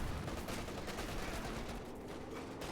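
Dense machine gun fire rattles in a World War II strategy game battle, continuous rapid bursts layered with other gunfire at a faint, even level throughout.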